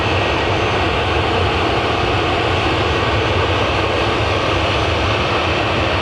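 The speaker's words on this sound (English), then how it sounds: "this is 737-800 going to Tenerife. It's a 13-year-old aircraft, Ryanair" Ryanair Boeing 737-800, thirteen years old, taking off at Manchester Airport, a loud, steady jet-engine roar that holds constant and dense throughout with no voices over it.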